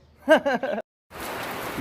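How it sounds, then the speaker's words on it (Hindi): Steady rain falls outdoors, a dense even hiss that sets in after a short gap and runs on alone; at the start people speak briefly before it. "देखो बारिश हो रही है"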